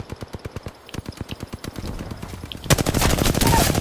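Rapid automatic gunfire in Apex Legends, a fast even burst of close shots that gives way to a louder, denser stretch of firing and impacts.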